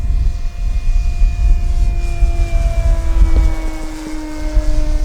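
An E-flite Carbon Z Cessna 150T RC plane makes a fast pass at full throttle, its loud motor whine holding steady and then shifting downward in pitch as it sweeps past, over a low rumble of wind.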